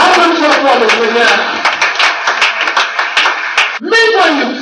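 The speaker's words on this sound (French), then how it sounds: "Applaudissons pour le Seigneur." A church congregation claps steadily and rhythmically during a French-language worship service, loud and close, with voices and singing mixed in; the clapping stops briefly near the end before voices continue.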